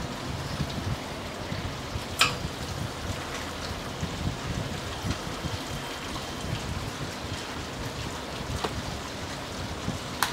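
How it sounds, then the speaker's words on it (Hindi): Water falls from above like rain in a home garden, fed by a pump motor, giving a steady broadband wash of splashing and patter with occasional louder drips, close and continuous with no talk. "तो यहाँ पे जो आप देख रहे हैं, इस पे पानी गिरता है ऊपर से जी"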